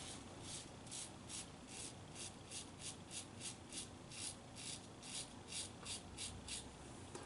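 Wilkinson Classic butterfly safety razor scraping across lathered skin in steady repeated strokes, a close, dry rasping rhythm of short bursts with no talk.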